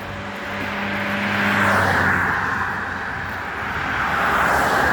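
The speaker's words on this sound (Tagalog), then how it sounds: "Ingay ng mga sasakyan" Traffic on a street in Cyprus, a steady broadband roar as vehicles pass nearby, swelling and easing over a few seconds with a low engine hum early on, no talk.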